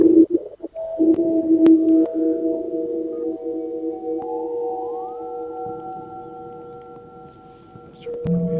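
A Behringer synthesizer drones on a steady sine-wave tone, a sustained hum layered with a few held pitches; partway through, a higher tone glides upward and then holds. A brief click comes near the start and again near the end.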